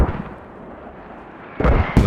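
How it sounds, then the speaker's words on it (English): Mortar shells in a military video game landing near a base, a steady low rumble followed by two sharp, loud blasts close together at the end. "Mortars are landing close enough to do damage to the hab."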